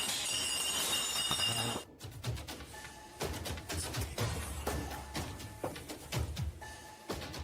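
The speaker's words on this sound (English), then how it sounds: "Terrifying clinking and clanking bursts through the darkness." Clinking and clanking metallic and glassy knocks burst out in the dark of a haunted house, scattered sharp hits at irregular moments, some ringing briefly, moderately close.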